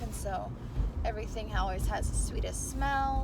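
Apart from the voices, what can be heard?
No everyday noises stand out.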